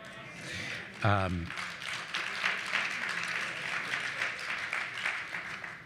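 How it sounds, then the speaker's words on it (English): A convention crowd applauds with steady, dense clapping that fills the room, following a brief spoken voice at the start. "I appreciate the applause very much"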